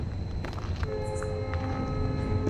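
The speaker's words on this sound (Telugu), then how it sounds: "ఈ ట్రైన్ వస్తుంది" A train rumbles nearby with a steady low roar and a sustained tonal horn-like drone, no voices.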